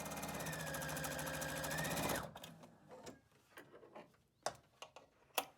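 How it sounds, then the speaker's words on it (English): A sewing machine runs steadily at speed for about two seconds, stitching a quarter-inch seam while piecing a string quilt block, then stops, leaving faint scattered clicks and handling taps. "Sew a 1/4 inch seam allowance here."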